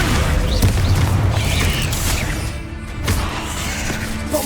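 A Descendo spell slams down in Hogwarts Legacy with a heavy boom and crashing impact, followed by whooshing debris and rumbling, loud and close throughout.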